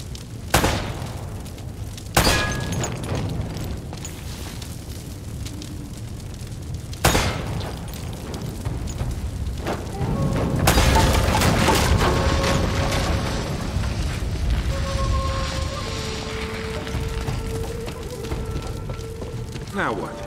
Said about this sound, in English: Try shooting one of those lamps down.